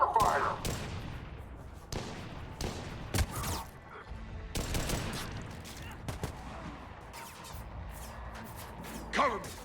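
Gunfire in the video game Mass Effect 3 comes as repeated sharp bursts and single shots scattered throughout, loud and close, with battle noise between them.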